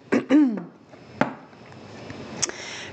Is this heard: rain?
no